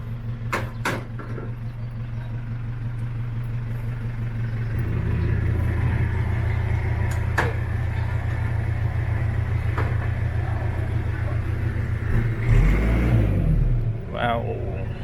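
An Isuzu Elf mini dump truck with a 4BE1 diesel engine runs steadily nearby, its low rumble building as it revs up, with a brief mechanical clunk near the end.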